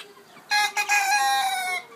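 A rooster crows loudly and close by, one drawn-out harmonic call with a short break near its start, set against quiet farmyard background.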